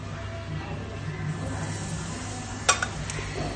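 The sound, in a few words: turmeric sizzling in hot oil in a kadhai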